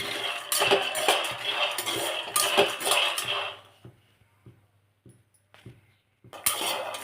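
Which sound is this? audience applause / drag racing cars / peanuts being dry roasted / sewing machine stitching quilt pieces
peanuts being dry roasted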